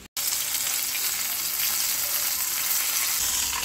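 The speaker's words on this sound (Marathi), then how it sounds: "असं गोल्डन ब्राऊन कलर येईपर्यंत फ्राय करून घ्यायचं." Flour-coated chicken pieces shallow frying in oil, giving a loud, steady, close sizzle that starts almost at once and runs without a break to the end.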